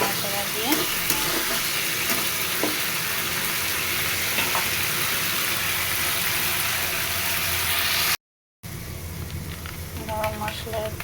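Paneer pieces frying in a pan and stirred gently, giving a continuous dense sizzle with soft scraping strokes, a brief cut to silence, then lighter sizzling with faint clinks and a voice speaking quietly over it.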